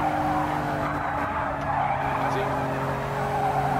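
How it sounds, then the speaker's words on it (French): Tyres skidding on a Toyota GR Yaris in Gran Turismo Sport, a steady rough roar of engine and tyre scrub under continuous loud race-car noise, with a voice talking over it. "on entend les pneus quand je dérape"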